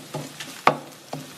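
Canned tuna being stirred as it fries in a pan, a low quiet sizzle punctuated by three or four distinct scraping knocks of the utensil, the middle one loudest.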